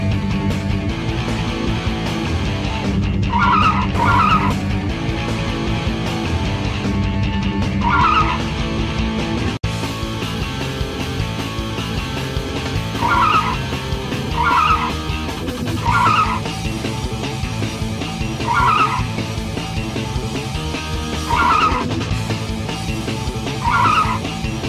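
Continuous revving engine with repeated tire squeals and skids, layered over steady background music, loud and close, from a free typing-based car racing game.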